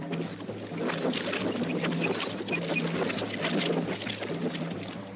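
Paddles churn water as a boat is rowed down a river toward falls, steady splashing and wind across the whole stretch, with a low droning hum underneath.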